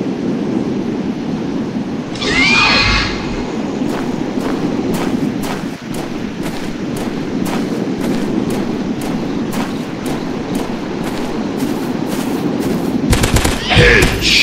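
Gunshots in the Dinosaurs Hunter video game: a loud burst near the start and another near the end, over a steady low rumbling game background with faint clicks in between.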